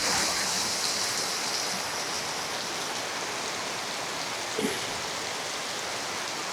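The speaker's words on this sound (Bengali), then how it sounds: "এই ভারী বৃষ্টির মাঝেও" Heavy rain pours down steadily outdoors in a village where paddy is being parboiled over a tin-covered clay stove, a dense unbroken roar of drops with a faint knock near the end.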